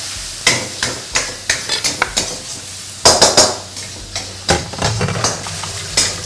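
Squid with yellow chili being stir-fried in a wok, with a utensil repeatedly scraping and clanking against the metal in quick bursts over a soft sizzle, close and loud.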